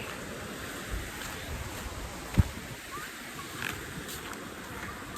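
Ocean surf rolling on a beach in Goa, a broad steady wash of waves with wind buffeting the microphone and one brief thump, moderately loud and continuous.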